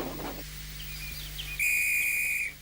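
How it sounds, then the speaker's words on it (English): A guard's whistle blows at a train station in a model railway scene, one sustained shrill blast close by, preceded by a soft hiss and low background hum. "Oh, that's my guard's whistle."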